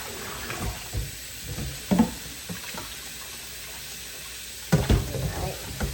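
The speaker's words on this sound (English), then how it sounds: "And then I'm just going to rinse it in water." Tap water runs into a kitchen sink while oxtails are rinsed, a soft continuous wash broken by irregular splashes and clunks of meat and handling, with a louder burst of splashing near the end.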